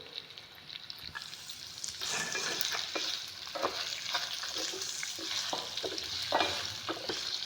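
Sliced radish sizzles steadily in a hot pan, with frequent close scraping taps from a spatula stirring and turning the pieces; no voices, just the cooking noise throughout.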